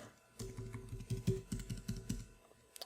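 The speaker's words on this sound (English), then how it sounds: "So I'm going to type in Adam Smith" Keys clatter on a computer keyboard in a quick, uneven run of taps while a web form is being filled in, close and fairly quiet, with no voices.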